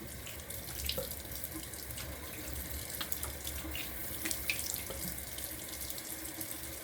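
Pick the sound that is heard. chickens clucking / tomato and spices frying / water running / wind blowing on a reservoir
water running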